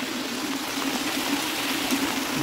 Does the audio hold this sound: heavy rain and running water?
yes